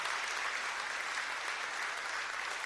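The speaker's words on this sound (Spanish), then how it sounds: "Si le dale un aplauso al Señor" A church congregation breaks into applause, a brief, even wash of many hands clapping, fairly soft and steady throughout.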